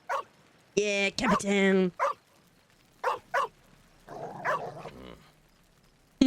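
In a story-driven video game, a dog gives a few sharp barks and a whimpering yip between stretches of spoken dialogue, close and clear.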